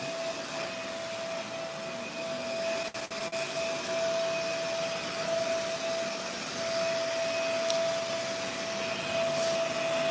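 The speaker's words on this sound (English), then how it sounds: "Bro, this vacuum is so bad." A vacuum cleaner running steadily with a constant whine and broadband roar throughout, loud and alone with no talking over it, a brief dip partway through.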